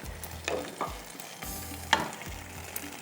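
Chicken broast pieces frying in oil, a continuous sizzle broken by several knocks and clatters of utensils against the pan.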